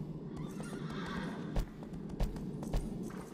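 A horse in the video game Shadow of the Colossus whinnies over a run of clip-clopping hooves, with a few sharp hoof strikes standing out near and clear.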